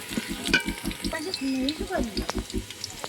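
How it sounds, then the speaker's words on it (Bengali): Onions fry in a hot pan with a continuous soft sizzle and occasional stirring scrapes, while a person talks over it close to the microphone. "পেঁয়াজগুলো ভাজা হয়ে গেছে প্রায়"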